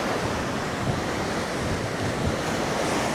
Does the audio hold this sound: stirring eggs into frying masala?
no